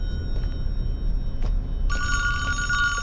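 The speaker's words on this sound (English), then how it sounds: "And back here, there's a phone that you could answer" Telephone ringing in the Friday the 13th Virtual Cabin video game: after some faint thuds and low ambience, an electronic bell ring starts and keeps trilling loudly and steadily.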